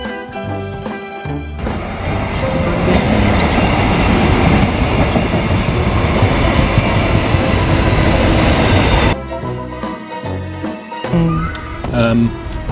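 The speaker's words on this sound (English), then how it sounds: "We're just going to hold here while the train goes past." A train rumbles past close by for several seconds, loud and continuous with rail clatter, then cuts off, leaving quieter background and a few voices before and after.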